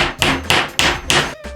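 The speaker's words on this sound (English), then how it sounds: "Get my hammer," A hammer drives a paneling nail into a wooden canvas frame with five sharp, evenly spaced strikes close by, each a bright crack with a short ring.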